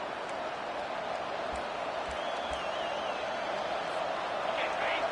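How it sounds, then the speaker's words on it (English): Steady roar of a packed stadium crowd in a college football video game during a playoff first-round matchup, continuous and loud throughout with faint whoops rising over the din. "listen to this crowd noise. This stadium is vibrating"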